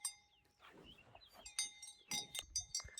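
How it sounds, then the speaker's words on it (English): Cows grazing right beside a parked car, with clinking bells and shuffling movement at close range, plus scattered animal calls and bright metallic chimes in irregular bursts. "Nice cows."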